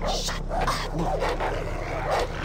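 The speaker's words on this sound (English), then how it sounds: "What is that dog going off about?" Dog barking inside the Far Cry 3 video game, a few sharp barks repeating over steady, dense game ambience and engine-like rumble.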